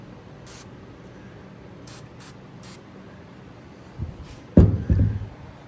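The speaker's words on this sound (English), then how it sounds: "Let's put some of this on. Got WD-40 in there." WD-40 sprayed from an aerosol can during a trailer repair: several short hissing bursts, followed by louder clunks and handling knocks near the end.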